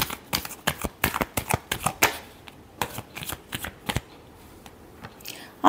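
Tarot cards are riffled and shuffled by hand in a quick series of crisp flutters and snaps, close and clear with brief pauses, and no talk over them.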